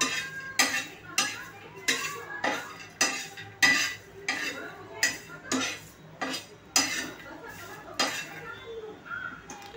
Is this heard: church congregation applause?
no